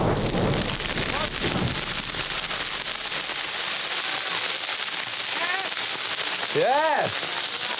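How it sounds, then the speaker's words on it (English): A small explosion goes off while a group burns a patch of jungle, giving a burst of crackling and popping over steady background noise, with people shouting and cheering nearby. "this explosion was way too small for our standard"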